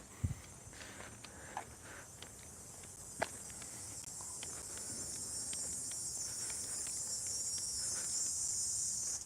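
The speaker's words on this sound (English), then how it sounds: "That's the sound of summer right there, the cicadas." Cicadas buzzing on a summer day, a thin, high-pitched drone that swells gradually louder across the stretch, with a few scattered ticks and light steps nearby.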